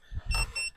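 A cooking timer alarm goes off beside an offset smoker, sounding short electronic beeping bursts close by, two distinct tones in quick succession over a low background rumble.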